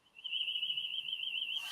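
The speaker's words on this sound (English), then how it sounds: "I think it sounds like a house alarm." A house alarm sounding, a single steady high-pitched electronic tone held continuously, moderately loud and alone.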